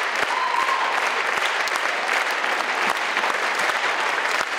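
A theatre audience at an opera gala in the Erkel Theatre gives a standing ovation, producing steady, dense, loud applause with continuous clapping and no pause.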